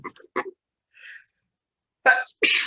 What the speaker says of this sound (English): I knew a sneeze was coming.